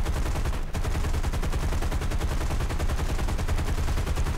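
An aircraft gunner in the War Thunder video game fires a long, rapid, unbroken machine-gun burst, loud and close, with the even rattling rhythm of continuous automatic fire and only a momentary break early on.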